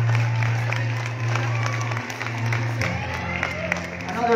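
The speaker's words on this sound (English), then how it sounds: "Another big round of applause to Jin Kyu Kim!" A crowd applauds and cheers at the final night of the Man of the World 2022 male pageant, with scattered claps and whoops of moderate loudness under someone speaking over an amplified sound system and a low hum.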